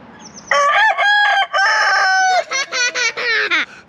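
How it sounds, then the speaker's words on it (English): A rooster at a chicken coop in Columbia State Historic Park crows once, close and loud, a drawn-out cock-a-doodle-doo that breaks into several short choppy notes toward the end. "I just saw another rooster."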